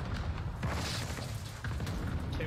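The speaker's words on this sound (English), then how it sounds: "Cluster strike is active." Cluster strike explosions rumble in a first-person shooter match of Warzone Rebirth, a dense, continuous roll of booming blasts with a brief dip midway, loud and close, with no voices.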